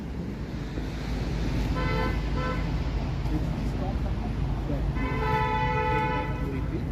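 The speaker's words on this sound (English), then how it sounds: "Keep honking." Car horns honk on a Toronto city street on a winter evening: a pair of short toots, then one longer sustained blast, over steady wind and traffic noise.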